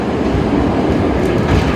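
An R32 car on the New York City subway D train rides along with a loud, continuous rumble and rhythmic clickety-clack of wheels on rails, heard from inside the car.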